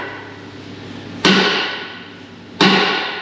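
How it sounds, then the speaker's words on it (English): A hammer strikes the front axle hub of a John Deere 9320 tractor twice, each a loud metallic bang with a ringing decay, spaced over a second apart against a steady background rumble. "Go ahead and whack that axle, Nate."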